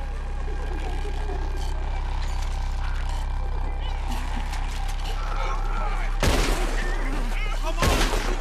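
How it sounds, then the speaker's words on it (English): Gunfire in the Red Dead Redemption 2 video game as rescuers shoot down hanging ropes, two loud sharp shots over a steady rumbling background with talk beneath. "Come on, shoot the ropes."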